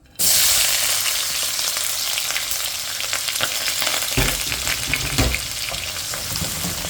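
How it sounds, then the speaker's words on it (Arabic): Onion dropped into hot oil for a chicken dish bursts into a sudden loud, crackling sizzle that keeps going steadily, with a few stirring knocks. The sound is close, and no one speaks. "لما نيجي ننزل بالبصل في الزيت لازم وانت بتنزلي بيه في الزيت تسمعي الصوت ده"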